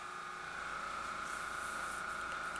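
Airbrush spraying paint in a steady continuous hiss while shading the bottom of a cylinder in a beginner exercise, close and constant with no pauses or talk.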